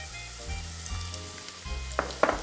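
Multicoloured courgettes frying in a pan make a steady, soft sizzle, with occasional stirring clatters near the end.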